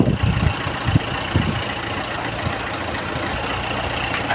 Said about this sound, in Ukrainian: підцепили дискову борону. Покажу трішки, як диски в роботі